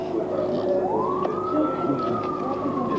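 An air raid alarm siren wails loudly and steadily, its tone sliding upward and then holding a long sustained pitch over faint background noise.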